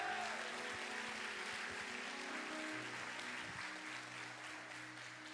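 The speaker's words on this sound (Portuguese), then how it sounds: "Você pode aplaudir a Ele nessa noite." A church congregation applauding during an evening service, a dense, continuous wash of clapping heard at a distance with a low sustained tone underneath.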